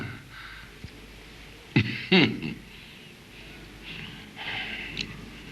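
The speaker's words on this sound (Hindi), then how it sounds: "बस थोड़ी सी खांसी है" Two sharp, rough coughs close by, surrounded by quieter breathing and throat noises.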